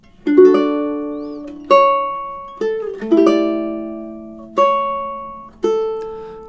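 Measures 14 and 15 of the romantic classical piece "Bella Vita" are played on a ukulele at a moderate tempo, six plucked chords and bass notes ringing and decaying one after another, close and clear with no talking.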